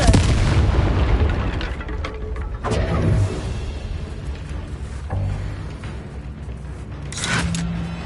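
Confringo spell explosions in Hogwarts Legacy, several loud booming blasts with crackling debris, one at the start and others spaced a few seconds apart, each followed by rumbling decay over background game ambience.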